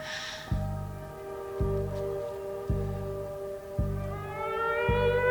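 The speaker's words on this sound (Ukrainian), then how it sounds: "У Києві оголошена повітряна тривога." Air raid siren alert in Kyiv, a drawn-out tonal wail rising in pitch toward the end, over a repeating low pulsing tone that strikes about once a second, loud and alone.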